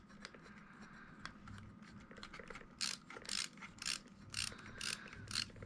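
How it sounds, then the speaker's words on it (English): A screwdriver drives a screw into an RC car's six-gear transmission with quiet, close clicking and a run of brighter ratcheting bursts toward the end. "I'm gonna screw it right in so that it holds it in place"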